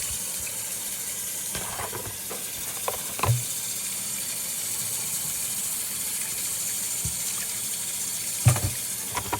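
Raw pork being washed in vinegar and water, with a steady rush of running water throughout and a few scattered clunks and splashes as the meat is handled.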